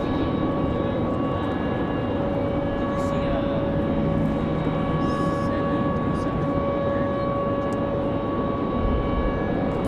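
An American Airlines jet bound for DFW takes off at Raleigh-Durham International in windy weather. It makes a loud, steady engine roar with a sustained whine, heard from a distance for the whole stretch.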